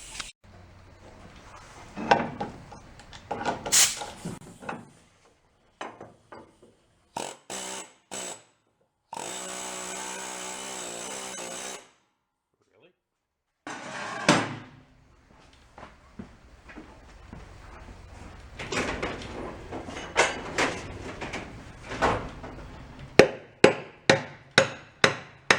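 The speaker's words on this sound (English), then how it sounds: "I might be able to hammer it from the back now." A part on a junked Snapper mower is struck with a hammer, metallic blows arriving in scattered bursts then a rapid run of sharp, close hits near the end, with a stretch of power-tool whir in between.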